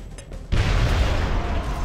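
A grenade blast in XCOM: Enemy Unknown bursts out suddenly after a brief quiet lead-in, a loud, broad boom that stays full and rumbling for over a second.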